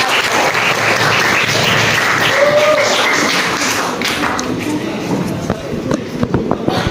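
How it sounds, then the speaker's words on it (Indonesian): A classroom group is applauded by fellow students as it comes forward to present, with broad, dense clapping sustained throughout and some thumps and voices mixed in. "Tepuk tangan buat kelompoknya."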